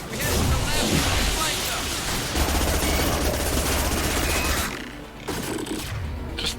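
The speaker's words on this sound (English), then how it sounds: "We're taking too much fire." Dense, continuous gunfire and explosions from a firefight in the Mass Effect Legendary Edition video game, loud overlapping rapid shots with blasts, easing briefly near the end.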